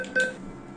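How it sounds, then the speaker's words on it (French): An ATM keypad gives a single short electronic beep as a key is pressed during PIN entry, close and clear over a quiet background. "Je vais taper le code que j'ai personnalisé."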